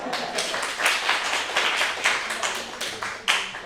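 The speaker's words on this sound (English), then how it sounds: "applause. Really nice work." A workshop audience applauds a participant's work: a steady wash of many hands clapping at moderate distance, continuous for several seconds with a few sharper claps standing out.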